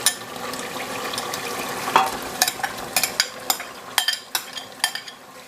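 Frozen spinach stirred into a lamb curry cooking in a pressure cooker pot, giving scraping, clicking spoon strokes over a low steady sizzle, with sharper knocks toward the end.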